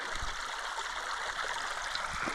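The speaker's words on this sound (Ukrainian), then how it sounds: "Ось у нас потічок. Чистий." Small, clean mountain stream in a Carpathian forest, flowing steadily with a continuous close, broadband rush and gurgle throughout, no voices.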